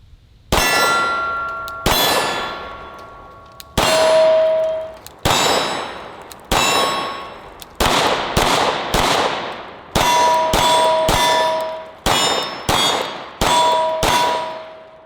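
A Gen 5 Glock 19 9mm pistol firing at a range: about fourteen sharp, loud shots with ringing metallic tails, spaced slowly at first and then in quicker pairs and clusters.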